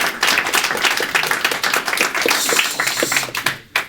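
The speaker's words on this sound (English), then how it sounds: "Can we give them a round of applause real quick?" Audience applause at an indoor community health conversation, a dense, steady round of many hands clapping up close for almost four seconds, then tapering off with a final clap.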